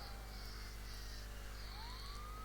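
A faint police siren wails in the distance, rising and falling over a steady low engine hum, in the truck-driving video game 18 Wheels of Steel: Haulin.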